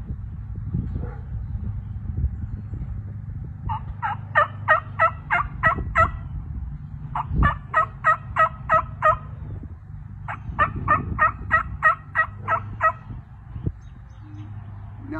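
A diaphragm mouth call imitating a hen turkey's yelp gives three quick series of sharp, rhythmic yelps over a low rumbling background, fairly close and clear.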